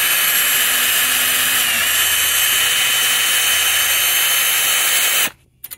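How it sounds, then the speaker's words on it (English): A power drill bores out the centers of rivets on a 1941 Philco console radio, a loud continuous high whine grinding steadily for about five seconds before cutting off abruptly. "I'm going to drill out the centers of all these rivets."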